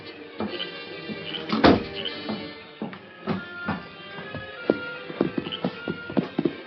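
Horse hooves clip-clop as a sound effect in a 1943 Lone Ranger radio drama, irregular knocks and thuds at moderate distance mixed with a louder thump, with no one speaking.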